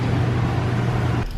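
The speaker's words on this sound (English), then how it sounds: "Just burping the throttle" A built green Honda Civic with a major exhaust leak and a failed gasket idles loud and close, its low engine drone holding steady before it cuts off sharply near the end.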